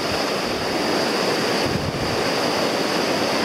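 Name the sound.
river water flowing, Logan River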